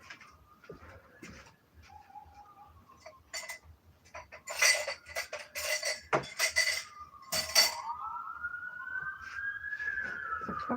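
A big serving spoon scraping and clinking against a pot of fluffed white rice, a cluster of sharp metallic clinks and scrapes in the middle, fairly close, with quieter shuffling before and after.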